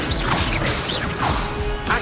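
The Expelliarmus spell is cast in Hogwarts Legacy, a brief burst of whooshing, crackling magic with sharp crash-like hits and sweeping tonal swishes, dense and close throughout.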